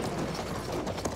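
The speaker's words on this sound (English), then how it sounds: "look out, enemy horse." Horse hooves clip-clopping in Battlefield 1 on the Sinai Desert map, a faint, uneven patter of steps buried in a busy battlefield din.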